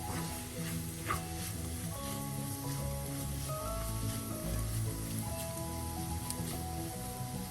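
Grated coconut and spices fry on a low flame for radish thoran, a continuous crackling sizzle with occasional scrapes and stirring clinks, moderately close.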